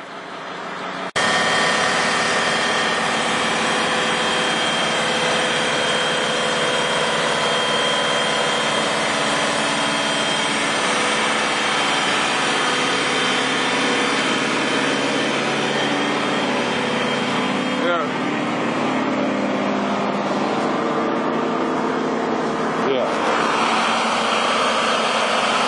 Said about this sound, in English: two pumps going in this dam and filling up nicely